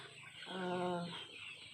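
Ayam kampung super chickens cluck at a poultry farm, a single clear harmonic call rising and fading over about a second against steady background noise.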